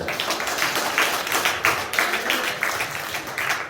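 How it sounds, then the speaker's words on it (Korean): Applause rises from a convention audience at a fashion show, a lively patter of many hands clapping with a slightly rhythmic pulse, close and continuous with no voices over it. "박수 한번 주십시오"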